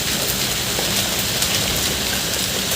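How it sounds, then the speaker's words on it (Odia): A hard downpour falls without pause, a loud, even wash of raindrops striking roofs and ground nearby, with no speech. "ଦେଖିବ ତ ହାଡ଼େ କେତେ ଜୋରେ ବର୍ଷା ହେଉଛି।"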